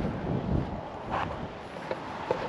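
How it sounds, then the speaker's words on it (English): Strong wind buffets the microphone outdoors in rural South Australia, a steady rumbling roar with gusty swells throughout. "it's so windy here"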